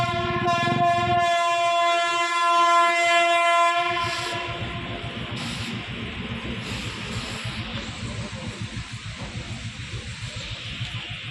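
A loud train horn blares for several seconds on a foggy winter morning, then gives way to the steady rumbling clatter of rail cars rolling past close by.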